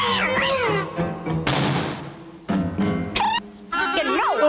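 Cartoon cat meows and caterwauls several times in quick succession, loud and close, with a thump and some vocal sounds in between.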